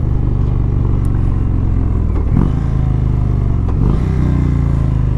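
A 2017 Indian Springfield bagger motorcycle with a 180 rear tire being ridden, its engine droning steadily and loudly at close range with wind rush and a couple of brief shifts in pitch, no voices.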